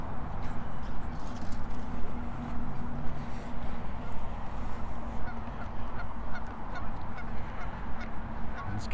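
Geese honking by a lake in Regina, a steady chorus of repeated calls over constant outdoor background noise, moderately close and continuing throughout.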